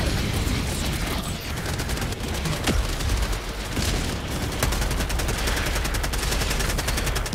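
Automated turrets in the video game Helldivers 2 fire in rapid, sustained bursts, a dense stream of loud gunshots with occasional heavier booms.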